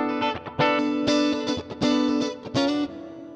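An electric guitar played through a VOX StompLab IIG multi-effects pedal on its normal patch, a slightly driven tone with several plucked notes and short phrases, each attack ringing briefly before the next, no talking.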